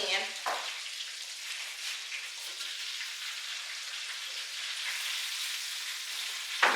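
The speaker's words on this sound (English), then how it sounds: "I got 1 more left that's frying in the pan." Steady close-up sizzling of food frying in a pan, a continuous crackle with a couple of small clinks.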